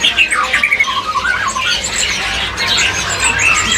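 A caged cicak jungkok songbird at a busy bird market sings loud, close, rapid chirps and squawky phrases, repeating in bursts over faint crowd murmur.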